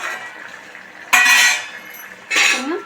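A metal cooking pot lid clanks and scrapes twice as it is opened over a boiling brinjal dish on high flame, each time a bright, ringing metallic burst, with quiet hiss in between.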